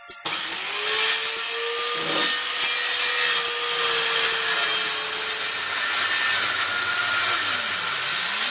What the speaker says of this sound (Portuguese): fiz o corte com a serra circular, para ficar com a face direita